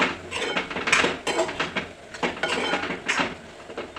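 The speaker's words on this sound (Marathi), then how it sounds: "आता आपण वरून ओलं खोबरं घालूया जे किसलेलं आहे विळीवर मिक्स करून घेऊया" Grated fresh coconut being mixed into a steamed cauliflower and potato vegetable, with a spoon scraping and clattering steadily against the metal pan, close and fairly loud.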